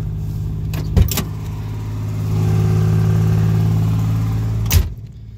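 A 1984 Chevy Citation with its original muffler idles steadily and fairly loud up close, a low droning exhaust tone with a couple of sharp clunks near the start and end.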